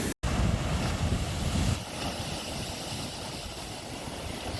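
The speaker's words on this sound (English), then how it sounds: "you can see the waves are still hitting pretty hard out here" Waves hitting hard along the rocky Lake Michigan shore in early spring, a broad continuous roar of surf with strong wind buffeting the microphone, loudest at first and then settling into a steady wash.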